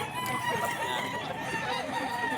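Gamecocks for sale at a market in Bocaue, roosters clucking and crowing among many birds, a faint busy flock under distant voices.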